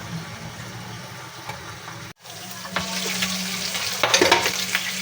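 Shallots fry in a pan of hot oil for sambal embe, giving a steady crackling sizzle that cuts out briefly, then returns louder and busier with stirring scrapes.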